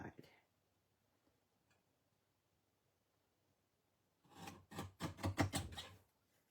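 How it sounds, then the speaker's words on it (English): A paper trimmer slices the ends off a handmade card: a faint click first, then after a quiet stretch a burst of rapid, close scraping cuts. "I'm going to bring in my trimmer, and I'm going to take off the ends"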